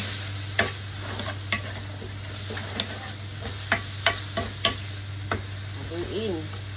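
Onions are stir-fried for yakisoba, a constant close sizzle broken by regular sharp scrapes and knocks of a spatula against the pan, with a steady low hum underneath.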